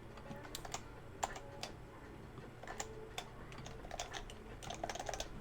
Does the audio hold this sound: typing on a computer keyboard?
yes